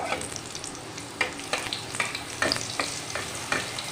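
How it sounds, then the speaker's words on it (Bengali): Luchi, a puffy Bengali fried bread, frying in hot oil in a home kitchen, giving a steady close sizzle broken by sharper bubbling bursts and crackles at regular intervals, with no talking. "দেখো তেলটা গরম হয়ে গেছে, আর আমি লুচিটা এর মধ্যে দিয়ে দিলাম।"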